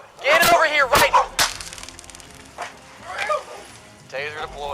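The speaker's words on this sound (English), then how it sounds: "Taser deployed." A police taser is deployed with several sharp, crackling snaps in quick bursts, mixed with loud shouting voices.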